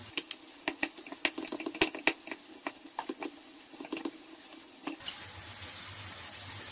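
Minced meat, about 350 grams, browning in a pan with peppers and garlic for a Turkish karnıyarık filling, with steady sizzling and repeated sharp scraping stir strokes; after a pause the sizzle becomes a constant frying hiss.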